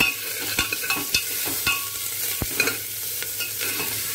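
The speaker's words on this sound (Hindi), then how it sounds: "अब मैं इसके अंदर डाल दूंगी प्याज। प्याज को हल्का सा सौते करेंगे।" Chopped onion sautés with roasted cumin in a pan on an induction cooker, giving a steady close sizzle broken by sharp stirring scrapes and taps, with no talking.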